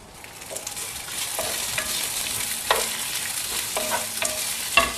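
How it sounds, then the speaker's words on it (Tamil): Ivy gourd curry ingredients sauté in a pan under a constant hiss of frying, with occasional scraping stir strokes, close and moderately loud. "தீயாம ஒரு மாதிரி கலர் மாறுற வரைக்கும், அந்த பச்சை வாசனை போற வரைக்கும் வதக்கிக்கணும்"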